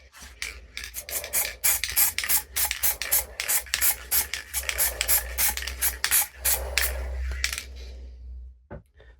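Rapid bursts of aerosol spray paint hiss over a stencil in short, uneven pulses, with a faint rattle between them, close and fairly loud, ending in a brief pause.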